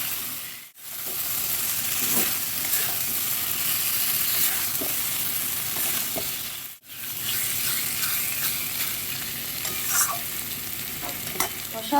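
Potatoes and cauliflower stir-fried in spiced masala, a continuous close sizzle with rhythmic stirring scrapes and two brief dips where the frying pauses.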